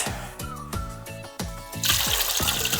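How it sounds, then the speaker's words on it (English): Water poured from a container into a sealed, waterproof metal vase for sunflowers, a continuous splashing, gurgling pour with a steady rhythmic glug that turns to a brighter, fuller rush near the end, close and clear. "I'm gonna fill up the vase."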